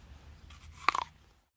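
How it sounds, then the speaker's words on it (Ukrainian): A single close, crisp crunch as teeth bite into a firm Granny Smith apple, followed by brief quieter chewing that fades to silence. "Яблуко хрумке, соковите"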